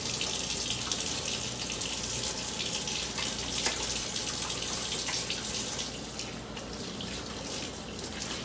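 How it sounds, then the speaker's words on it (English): Steady running tap water splashes into a sink as hands are washed, a continuous close hiss with faint drips, loud and uninterrupted throughout with no talk. "So, let's wash our hands."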